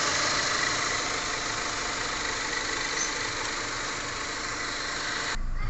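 A 2002 Mitsubishi Galant engine idles steadily just after starting, with an even, continuous mid-range hum and no talk over it.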